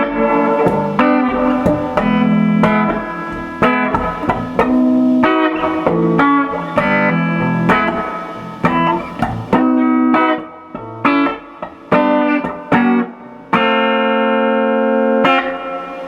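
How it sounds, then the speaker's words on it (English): Vox AC30 guitar amplifier on its normal channel with reverb turned fully up, playing sustained chords and notes that ring out with a wide reverb wash, loud and close with no talking. "we're in the normal channel, and the reverb is up to maximum"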